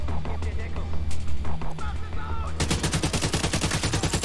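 Rapid automatic gunfire in Tom Clancy's The Division 2 breaks out loudly after a stretch of game ambience, a steady fast stream of close shots continuing to the end, with no talking.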